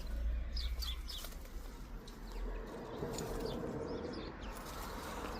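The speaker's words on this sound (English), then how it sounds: "Our camphor berries are already being stripped by the birds, mainly the blackbird," Blackbirds stripping camphor berries in an autumn garden, with a burst of close wing flapping at the start, faint chirps, and a steady outdoor rustle afterward.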